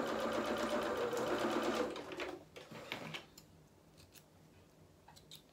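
A sewing machine stitches fabric in a fast, steady whirring run for about two seconds, then stops, followed by quiet clicks and handling sounds of thread and cloth, with no voices.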